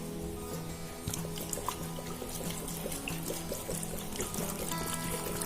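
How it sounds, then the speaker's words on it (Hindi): A little water poured into a cooking vessel while preparing stuffed bitter gourd, a steady close trickle and splash running continuously with small clinks of the pot. "इस बर्तन में हम थोड़ा सा पानी डाल लेंगे।"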